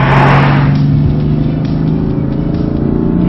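A BMW M3 or M4 engine pulls hard under acceleration with a growly throttle note, a loud steady drone with harmonic tones heard from inside the car while driving, with no talk over it.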